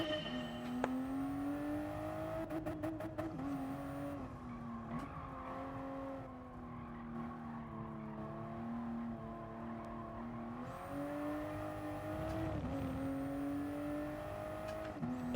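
A race car engine roars in the Gran Turismo Sport racing game, holding a steady loud drone that rises and falls through gear changes, with occasional tire squeal.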